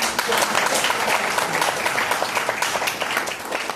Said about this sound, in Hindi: आपके सम्मान में मैं ताली बजाता हूँ